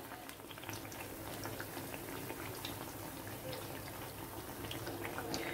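Malpua batter fries in hot oil in a pan over a low-to-medium flame, giving a steady, close, continuous sizzle with fine bubbling crackles and no voices.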